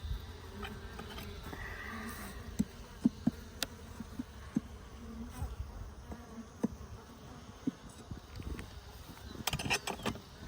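Honey bees buzz steadily around an open hive cutout holding comb and brood, a dense, close hum broken by a few sharp mechanical clicks and knocks.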